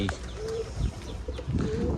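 Pigeons kept by a home pigeon keeper coo softly in low throaty bursts, strongest near the end, among a faint background hum.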